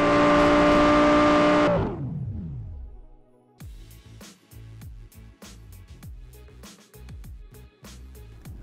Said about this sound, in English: it sure is a lot of fun racing on a scale like this